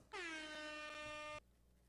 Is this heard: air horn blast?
yes